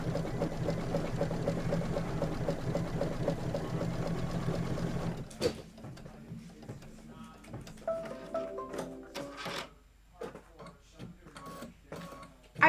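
An embroidery machine stitches a sweater outline for an autumn quilt block, its steady rapid needle chatter running loud for about five seconds, then giving way to quieter irregular clicks, thumps and brief machine whirs.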